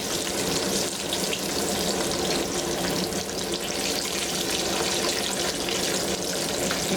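Fish frying in a pan for crispy sweet and sour fish, a steady dense sizzle and crackle that stays loud and even throughout, with no talking.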